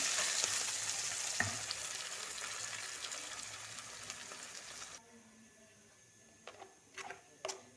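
Tempering for tomato chutney sizzles steadily in hot oil for about five seconds, close and fairly loud, then drops away to quiet with a few clinks and stirring sounds.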